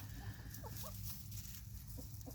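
Chickens in a backyard coop cluck softly with a few short, scattered calls over a steady low hum of background noise.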